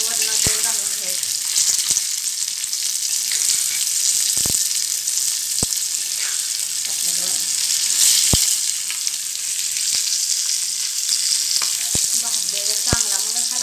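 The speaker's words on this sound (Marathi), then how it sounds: "मस्त वरण तेल घालून घ्यायचं." Pomfret fish frying in hot oil, a steady close sizzle that runs the whole time, with a few sharp pops and the scrape of stirring over it.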